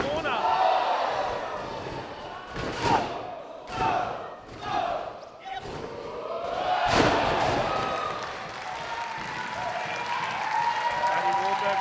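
A wrestling crowd applauds and cheers in a bursty, uneven way. Sharp slams and claps stand out as the noise swells and fades, with a voice talking over it.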